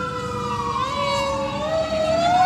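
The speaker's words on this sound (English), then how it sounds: "More fire trucks are coming and whatnot." Fire truck sirens wail loudly at a protest outdoors, pitch gliding and overlapping as the trucks pass close by, with a steady roar underneath.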